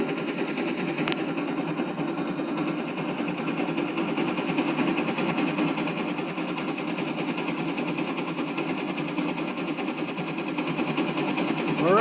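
A homemade engine runs loudly and steadily, producing a dense mechanical rattle with a rapid, sewing-machine-like clatter that stays close and constant throughout, with no talking.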